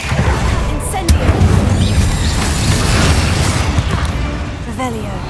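A fire spell is cast in the video game Hogwarts Legacy, giving a loud, full-band blast and rumble that keeps roaring under game music and effects. A voice calls out the spell's name.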